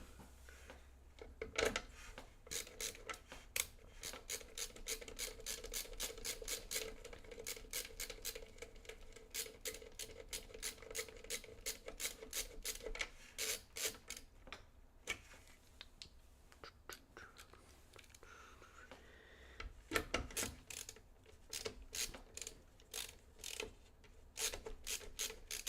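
Screws are driven into an Asus ROG Hyperion E-ATX case while a gaming PC with an AMD 7800X3D and RTX 4090 is built, giving faint rapid ratcheting clicks and scraping turns in repeated bursts, close and quiet.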